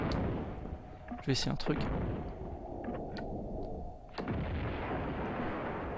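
Grenade explosions in the video game Tomb Raider 2, two sharp blasts with crackling debris about a second in and another deep boom near the end, over a low hum, with someone speaking briefly.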